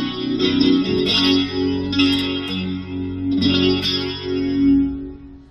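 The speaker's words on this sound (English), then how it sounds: "So a lovely luscious rotary speaker sound there." Guitar chords through an Electro Harmonix Lester K rotary speaker pedal on the slow setting, full swirling tones with reverb-like tails, several strummed chords ringing loud and alone.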